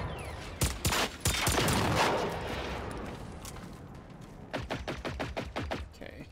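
Pistol hip-fire in Generation Zero: sharp, loud single shots, a quick cluster early and another rapid string near the end, with a lingering reverberant tail between them.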